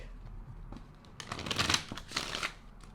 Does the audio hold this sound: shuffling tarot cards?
yes